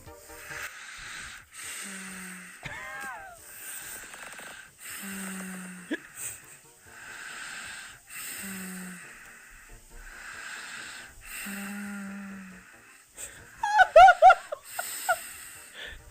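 A recording of a person snoring while asleep plays back as a cartoonish, whistling wheeze with a low snort, repeating roughly every three seconds, followed near the end by a brief burst of louder laughing noise.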